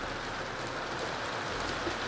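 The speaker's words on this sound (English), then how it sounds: "you might hear some like rain in the background." Soft, even hiss of rain falling in the background, a faint steady patter with no talk and no distinct drops standing out.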